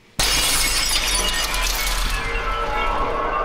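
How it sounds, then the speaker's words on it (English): A glass-break sound effect with added low-end punch from a Metric Halo Thump plugin during an indie film mix: one sharp shatter bursts in with a deep thump underneath, then a ringing tail of glass debris. "And you can really hear the punch of that glass break."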